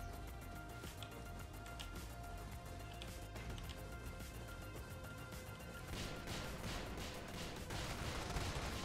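Mech gunfire in the video game Brigador, a rapid, dense series of shots and impact crashes over a constant rumbling bed, growing heavier toward the end.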